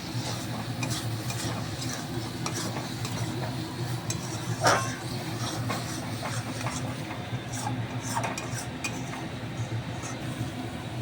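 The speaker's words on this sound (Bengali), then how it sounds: "মাশরুমটা দিয়ে এবারে একটু নাড়িয়ে নেব ভালো করে" Mushrooms fry in a pan under repeated stirring, rhythmic scraping and light clinks over a constant sizzle, near and moderately loud, with one sharper knock midway and no speech.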